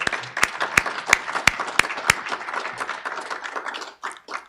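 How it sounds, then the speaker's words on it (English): Audience applause at a Rotary Club meeting in a room, opening with a few loud, distinct nearby claps that swell into a dense round of clapping before tapering off. "So I think both Kitty and Invictus deserve a round of applause."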